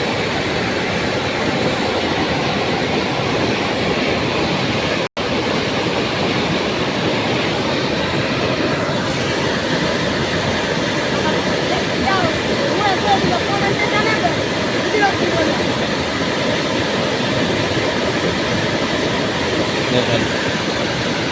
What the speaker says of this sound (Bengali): প্রচণ্ড বৃষ্টি হয়েছে আজকে, এই জন্যে পানির স্রোত, প্রচণ্ড স্রোত।